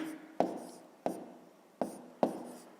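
Pen strokes on paper while a maths solution is written out, four distinct close scratchy taps and scrapes spaced irregularly apart, quiet with no voice.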